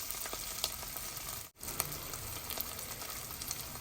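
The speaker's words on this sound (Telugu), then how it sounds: "కొద్దిగా వేగనిద్దాం అలాగే పసుపు కూడా ఇద్దాం అందులో ఇంకా వేగిపోతుంది" Carrots with turmeric frying in a pan for a carrot coconut fry give a steady, close sizzle throughout, broken by a brief dropout midway.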